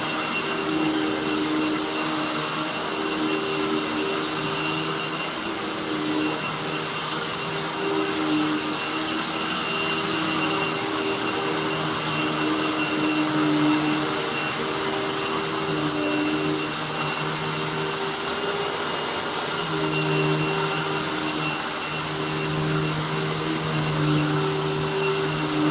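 A vacuum cleaner runs steadily and loudly throughout, a constant motor whine with a broad airy roar and no break in the noise.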